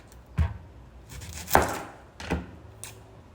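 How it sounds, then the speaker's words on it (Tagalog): Knife chopping onion on a cutting board while preparing Filipino pork sinigang, three or four separate sharp thunks spaced out, close and fairly clear with no talking. "Yung onion naman ang hihiwain natin."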